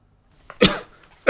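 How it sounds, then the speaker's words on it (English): Two sharp coughs from one person close by, a short pause between them, the first followed by a brief trailing rasp. "I have a cough."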